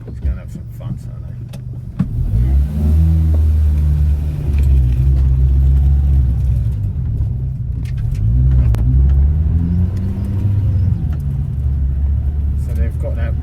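A Renault Twingo RS 133 fitted with EBC Yellowstuff pads and Mtec C-Hook discs is driven hard to bed in new brakes, giving a steady close engine rumble with rising and falling revs, under occasional talk.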